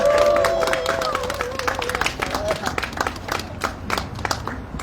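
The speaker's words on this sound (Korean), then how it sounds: "큰 박수로 모시도록 하겠습니다" A rally audience gives loud applause to welcome a speaker, a burst of scattered clapping and cheering mixed with voices that gradually thins into separate claps.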